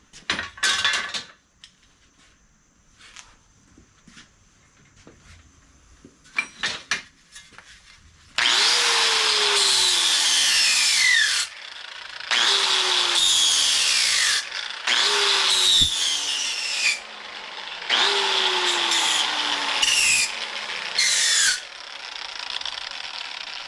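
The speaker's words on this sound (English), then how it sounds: "Let's deburr that a little bit." A power tool deburrs a metal part for a 1981 Huffy Good Vibes 5-speed bike, after a few quiet knocks, in four loud whining bursts that each sag in pitch as the tool bites into the metal.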